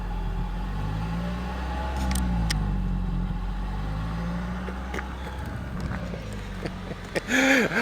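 A 2014 Toyota Avalon Hybrid accelerates from 0 to 60 mph at full throttle, heard from inside as a rising engine drone that climbs and shifts in pitch, steady and fairly loud, with a brief disturbance at the end.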